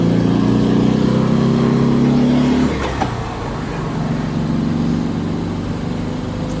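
A 1968 Volkswagen Type 3 fitted with dual 34 carburetors drives along, its engine droning steadily, then easing off around a gear change before settling back into a lower, even hum while the car rolls on.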